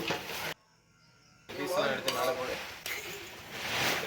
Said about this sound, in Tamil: இப்போ வாங்க தம்மை கிண்டலாம்